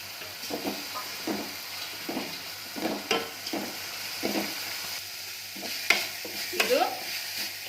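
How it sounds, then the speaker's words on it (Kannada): Carrots and beans stir-frying in oil for coriander rice: a constant low sizzle broken by repeated rhythmic scrapes of a spatula against the pan, close and clear, with no one speaking. "ಕ್ಯಾರೆಟು ಬೀನ್ಸು ಮೆತ್ತಗಾಗೋವರೆಗೂ ಹುರ್ಕೋಬೇಕು"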